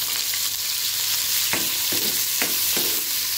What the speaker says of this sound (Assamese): কেৰাহীত মিঠাতেল দিছোঁ এইটো শুকনা মাছটো ফ্ৰাই কৰি